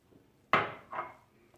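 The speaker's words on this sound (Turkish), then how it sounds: "Önce kaşık yardımıyla biraz karıştırıyorum." A spoon stirs soft bread dough in a bowl, giving two quick scraping knocks close by in a quiet room.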